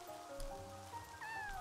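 A cat in Yonder: The Cloud Catcher Chronicles video game meows in a couple of drawn-out, rising and falling calls over faint rain-like background patter, fairly quiet.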